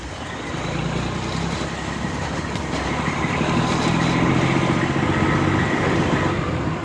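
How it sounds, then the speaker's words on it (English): A Detroit Diesel truck engine runs under jake brake, a loud, continuous low rumbling drone that swells slightly in the second half and carries no talk. "The use of the jake brake was totally required."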